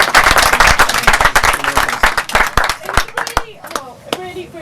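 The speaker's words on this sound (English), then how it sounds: "Deserve a huge round of applause." A trekking group on a Mount Toubkal trek in Morocco claps loudly and unevenly at close range, the sharp individual claps thinning out toward the end, with voices talking and cheering underneath.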